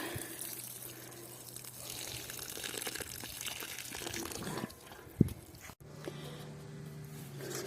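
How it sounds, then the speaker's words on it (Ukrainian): Water is poured into a planting hole for horseradish in a garden, a soft splashing and gurgling trickle with a brief thud partway through, faint and close. "Наливаю туди водички і закопую."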